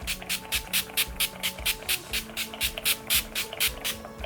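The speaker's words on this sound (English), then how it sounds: "to set my face, we're gonna use this setting spray" A rapid series of short, bright spray bursts from a pump mist bottle of makeup setting spray onto a face, about a dozen quick spritzes in steady rhythm, close to the microphone.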